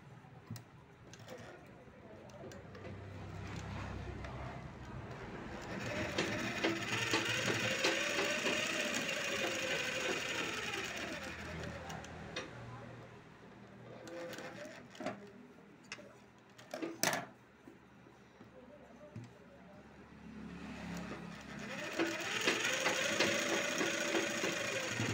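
A sewing machine stitches a blouse in quiet bursts of rapid mechanical ticking that speed up and pause, with a voice talking faintly at times.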